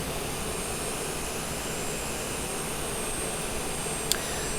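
Challenger 350 business jet engines with the throttle pulled back produce a steady, broad roar and hiss, constant in level throughout, with only a brief faint click near the end.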